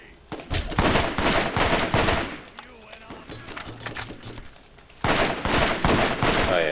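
Rapid bursts of rifle gunfire from a TCH Deathly Rifle in the shooter game Borderlands, loud and dense in two volleys with a quieter, busier stretch of game sound between them.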